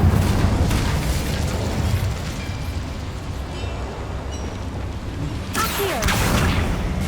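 An Incendio fire spell cast in Hogwarts Legacy lets out a loud, rumbling, explosive burst of flame, a sustained roar that carries on for several seconds and then flares up again in a brighter crackle near the end.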